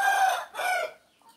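A rooster crows nearby in a loud, harsh two-part call that fades out within a second or so, with faint sounds trailing after.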